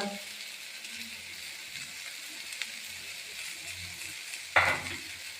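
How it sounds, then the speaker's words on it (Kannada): Garlic, ginger, cinnamon and cloves fry in a pan for mutton sambar with a steady close hiss of sizzling oil, broken near the end by one sharp clink of a utensil against the pan. "ಎಲ್ಲ ಹಾಕ್ಕೊಂಡು ಈ ಸತಿ ಫ್ರೈ ಮಾಡ್ತಾಯಿದ್ದೀನಿ. ಇದೆಲ್ಲ ಫ್ರೈ ಮಾಡೋದ್ರಿಂದ ಒಳ್ಳೆ ಟೇಸ್ಟ್ ಬರುತ್ತೆ"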